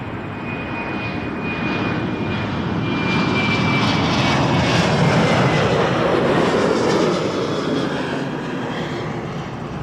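A jet airliner landing at Toronto Pearson airport produces a broad, steady engine roar that swells toward the middle and slowly eases off, heard alone without voices.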